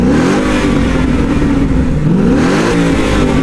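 A Ford Mustang GT with a naturally aspirated eight-cylinder V8 and its exhaust revs loudly and close by, its deep engine note rising and falling through a couple of sustained pulls, with no voices over it.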